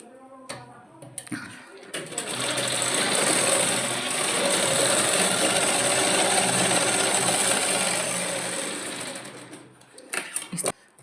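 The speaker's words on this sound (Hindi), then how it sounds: "अब इसको हम यहाँ से भी ऐसे सिलाई कर देंगे।" A sewing machine stitching a baby frock: a few clicks and handling sounds, then a steady whirring, rattling run of stitching for several seconds that slows and stops, with light handling noises after.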